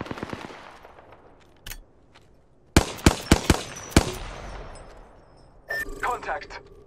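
Bursts of gunfire in Apex Legends: a lone shot, then a rapid cluster of sharp cracks and a final volley, loud and near against a quiet background, with game voice callouts in between.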